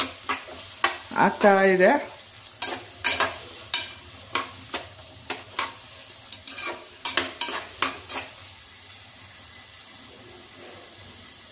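Paneer and cabbage stir-frying in a home pan, with a spatula scraping and tossing in irregular bursts of clatter over a soft sizzle. Someone speaks briefly near the start.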